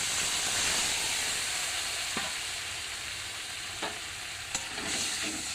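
Mustard paste sautéed in a frying pan with cooked-down tomato, a loud continuous sizzle and hiss with occasional scrapes of stirring, close and without voices.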